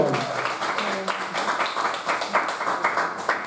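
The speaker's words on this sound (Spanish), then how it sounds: "Denle un aplauso al Señor" A church congregation claps in a rough, uneven burst of applause, hands striking quickly and fairly close, mixed with murmuring voices in the room.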